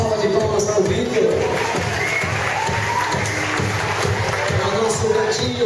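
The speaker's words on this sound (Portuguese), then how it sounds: "Cadê a nossa salva de palmas para o Vitor?" A crowd at a small-town pageant finale applauds and cheers steadily for a few seconds, the clapping and shouts filling the space while a voice carries over it.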